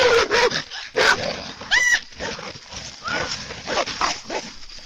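A dog barks loudly and close by in repeated sharp bursts mixed with higher yelping, amid a tense scuffle with some background noise.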